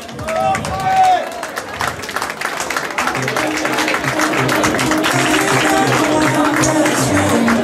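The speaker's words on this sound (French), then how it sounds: "On les applaudit." Audience applause for runners at a trail race award ceremony, steady clapping from a crowd over general hubbub, with a voice speaking at the start.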